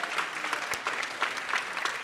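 Audience at a National History Day welcome ceremony applauding and cheering for donors, a dense, steady wash of clapping filling the hall with occasional louder bursts.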